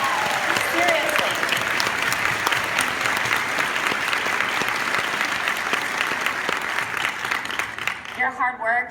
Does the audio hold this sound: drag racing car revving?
no